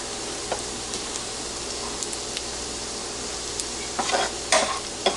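Onion and garlic frying in a pan for Spanish rice, giving a steady broadband sizzle with occasional louder crackles and stirring scrapes toward the end, no talking.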